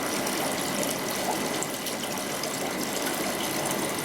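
A siphon in a tropical fish tank sucking up water and gravel muck, a steady close gurgling rush with gritty rattling throughout and no talk.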